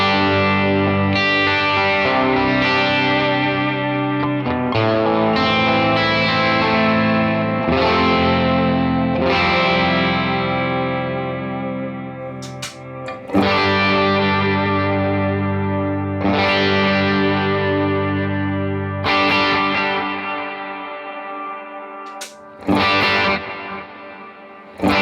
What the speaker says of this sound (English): So immediately you can hear the delay repeats sound much louder.